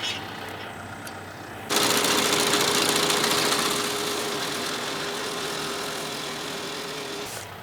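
A sickle bar mower cutting grass on a pond dam and hay field runs as a steady, fairly loud mechanical drone that starts abruptly and holds with a faint whine, no voices.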